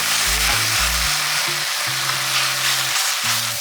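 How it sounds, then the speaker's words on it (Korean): Beef and onions stir-fry in a pan with a steady, bright sizzle throughout, while low sustained melodic tones hum underneath. "거의 볶아졌다면 소고기를 넣고 볶아주시고요."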